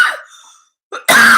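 A single person coughs: an earlier burst fades out, then after a short silence a brief throat sound leads into a loud, harsh cough that runs to the end, close to the mic.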